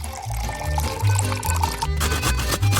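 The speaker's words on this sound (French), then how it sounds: "je dois verser de la crème fouettée dans une poêle profonde" Whipped cream pours into a deep frying pan with a steady glugging flow, close and fairly loud, over a repeating musical beat in the background.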